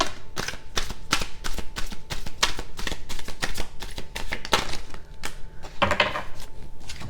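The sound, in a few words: shuffling tarot cards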